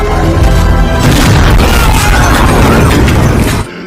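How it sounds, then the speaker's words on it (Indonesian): Bomb blowing up in Hiriluk's hands, a loud, sustained roaring blast with crackling debris that fills several seconds before cutting off abruptly, no talk over it. "bom tersebut malah meledak di tangan Hiriluk"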